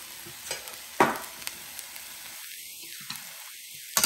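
Cooked rice for restaurant-style vegetable fried rice being stirred in a hot pan, with a soft steady sizzle and a few sharp scrapes and clinks, close and with no talking.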